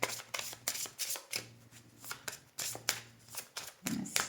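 Tarot cards are shuffled by hand in quick repeated riffles and slaps, close and crisp, with a faint low hum in the background.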